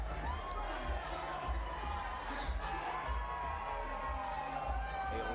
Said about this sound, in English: A lively crowd here in the Motor City.